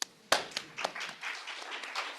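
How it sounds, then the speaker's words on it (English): Audience members at a faith-based organizations symposium begin clapping for the panelists, starting with a few sharp, scattered claps that thicken into a modest, uneven round of applause. "Let's give them the first round of applause."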